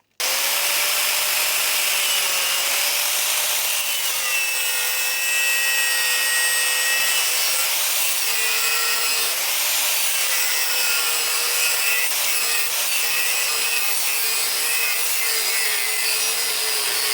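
A handsaw cuts through the end of a piece of wood along a scored mark, a steady close rasping stroke that runs continuously for the whole stretch with no talking over it.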